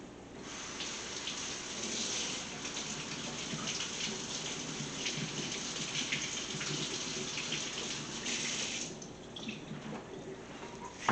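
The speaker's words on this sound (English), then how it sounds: "Rinse off my celery." Tap water runs steadily over celery in a kitchen sink, a soft continuous hiss and patter that stops abruptly near the end.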